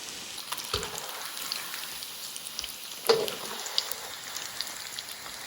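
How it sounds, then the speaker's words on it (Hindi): Mac and cheese balls deep frying in hot oil give off a steady, soft sizzle with scattered pops and crackles, quiet and continuous. "इसको तकरीबन 3 से 4 मिनट फ्राई किया और ये परफेक्ट कलर और क्रिस्पीनेस इन पे आ गया है।"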